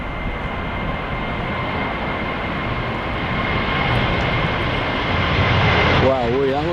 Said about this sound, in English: So here we go, I'm expecting quite a quick takeoff.